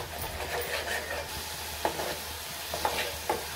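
Masala sizzling and being stirred in oil in a pan while cooking a Maharashtrian bombil curry, a steady soft frying hiss broken by a few light utensil scrapes and taps.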